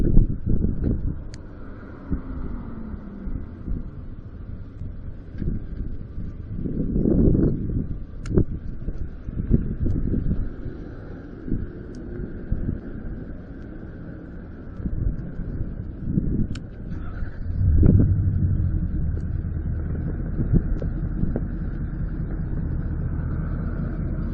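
Wind gusts across an outdoor microphone, a steady low rumbling roar that surges and swells in several strong buffets and keeps blowing without a break through the whole stretch.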